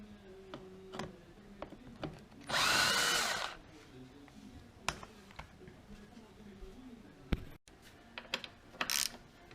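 Torx 20 driver backing out seat screws on a SAAB 9-3 convertible driver's seat, a brief whirring burst of a powered driver amid scattered ticks, clicks and handling noises close by.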